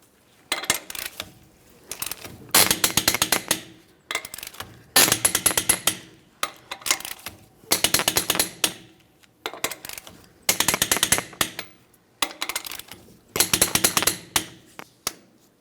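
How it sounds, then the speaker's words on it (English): A torque wrench clicks through the lug nuts on a Ford Transit 250 wheel, sounding as repeated bursts of rapid ratcheting, about seven separate runs spaced a second or so apart, fairly close and steady with no talking. "Let's go ahead and torque each of these lug nuts to that 148 foot-pounds."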